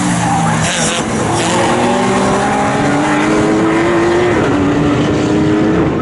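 Racing cars, among them a Radical, scream past at Snetterton circuit in an MSVR All-Comers race, engines loud and continuous with rising and falling pitch as they pass close by.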